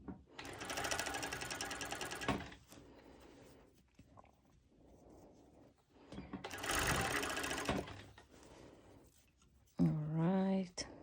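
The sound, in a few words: cover stitch sewing machine top stitching a cropped top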